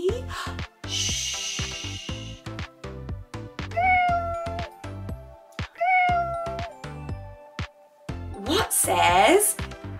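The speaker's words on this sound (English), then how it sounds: "What says meow? Do you know? A cat?" A cat meows several times in short, clear calls set between plucked toy-like musical notes, near and moderately loud.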